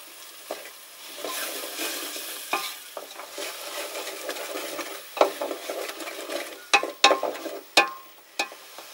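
Eggs and marinated onions fry in a pan with a soft, steady sizzle, broken by scraping and clinking as they are stirred, and the clatter grows louder and more frequent toward the end.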